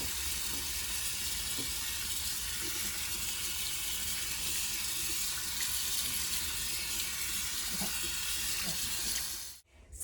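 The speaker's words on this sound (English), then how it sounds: "So you saw me just washing my hands." A tap runs steadily while hands are washed with soap, a continuous close hissing water flow with faint splashes throughout, cutting off abruptly just before the end.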